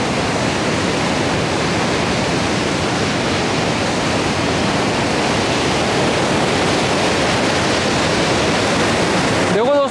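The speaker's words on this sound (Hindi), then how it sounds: "ये पानी का प्रेशर आप देखो बहुत तेज" Water rushes hard through a partly opened gate at Kota Barrage, a loud, steady, roaring wash of broadband noise that stays constant throughout.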